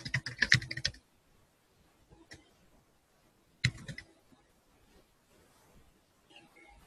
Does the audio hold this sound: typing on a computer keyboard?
yes